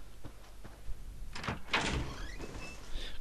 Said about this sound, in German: Ich mag das Geräusch von Türen nicht in dem Spiel irgendwie